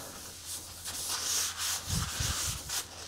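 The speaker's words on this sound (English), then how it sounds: "I'm going to go ahead and give it another clean just to get any of that sanding residue off" A cloth wiping a freshly sanded surface clean with degreaser while preparing for airbrushing, a soft, steady rubbing hiss in repeated close strokes with no talking.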